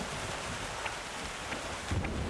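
Cartoon rainstorm with steady rain hiss, gusty wind noise and a low rumble of thunder swelling near the end, heard without speech.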